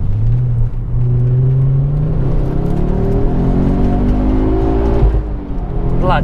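A Ford Focus RS Mk2 accelerates hard along a twisty road, its engine note loud and close as it climbs steadily in pitch, with a brief dip near the end as it shifts gear.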